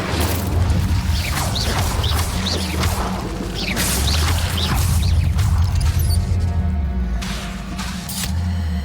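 Bombarda and Incendio spells cast during a Hogwarts Legacy fight, a loud rumbling mix of blasts, whooshes and crashing impacts, with sharp bursts and fiery swishes layered over a constant low roar.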